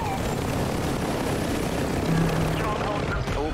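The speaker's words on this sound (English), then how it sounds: "Wait, why is there a chopper above me?" A helicopter in Warzone 2 thrums overhead with a steady rotor drone that stays loud and constant, while players talk over it.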